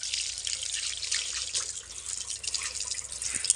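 Water runs steadily from a tap while hands are washed at a farm site, a close, continuous hissing splash with faint drips and no pauses.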